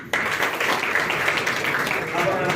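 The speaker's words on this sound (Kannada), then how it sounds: "ತಮ್ಮೆಲ್ಲರ ಚಪ್ಪಾಳೆ" Audience applause at a memorial ceremony and book release in Hunagunda, a steady dense patter of many hands clapping that fills the hall and continues evenly throughout.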